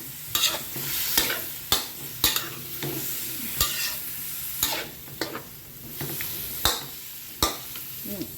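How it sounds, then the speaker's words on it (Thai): Pork and pineapple stir-fried together in a pan for a sweet and sour dish, producing a steady sizzle broken by regular sharp clanks and scrapes of the spatula, close and fairly loud. "ผัดไปกับหมูนี่แหละ"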